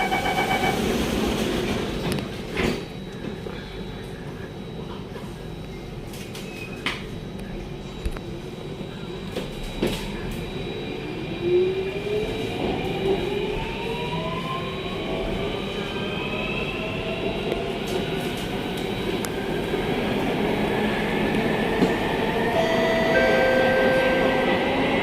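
A C830 metro train runs between Buona Vista and Holland Village, a steady loud rumble throughout with rising and falling wheel and motor whines and a squeal partway through, with no talk.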